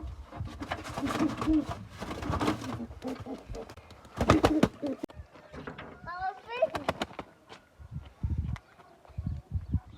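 Pigeons coo in soft, rolling calls amid flapping and scuffling, with people talking over parts of it and a few sharp knocks.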